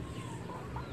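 Faint clucking from chickens during Typhoon Egay, soft and close-ish, over a steady low background noise with no talking.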